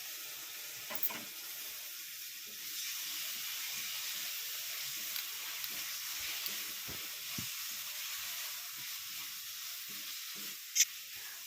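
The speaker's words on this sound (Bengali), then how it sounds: "এটাকেও হালকাভাবে ফ্রাই করে নিতে হবে" Slit green chilies and chopped spring onions frying lightly in oil in a pan, a soft steady sizzle with occasional small clicks and stirring taps, fairly quiet and close, no talking.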